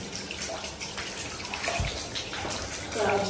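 Running water splashes steadily while meat is washed in a home kitchen during Eid cooking, a continuous gushing wash with a brief louder splash midway and faint voices in the background.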